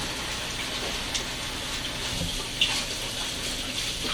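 Water runs steadily from a kitchen tap while hands are washed, a continuous close hiss and splash with small shifts in the flow and no talking.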